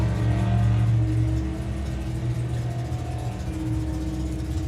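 A Ford Mustang drag car makes its run at a warm drag racing meet, the engine roaring loud and steady, then easing slightly as it pulls away, with no talk over it.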